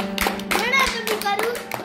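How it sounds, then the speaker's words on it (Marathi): Schoolchildren in a classroom clap for a classmate who just counted aloud correctly; uneven, scattered hand claps under loud, overlapping kids' voices and an adult speaking. "टाळ्या वाजवा तिच्यासाठी."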